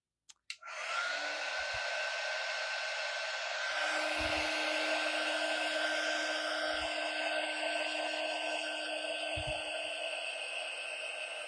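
A hair dryer is drying paint on a Halloween craft tree. After a click it starts up and runs with a loud, steady whooshing hum. A few soft knocks and bumps sound under it.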